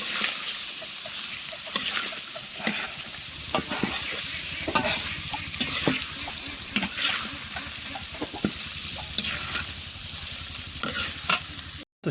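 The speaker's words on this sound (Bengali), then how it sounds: "এখন হচ্ছে আমরা মিক্সড ভেজিটেবল বা চাইনিজ ভেজিটেবল ওইটা হচ্ছে রান্না করতেছি" Mixed Chinese-style vegetables sizzle steadily in a pan over heat while a utensil stirs them, giving a continuous crackling fry broken by scraping strokes and soft clinks throughout.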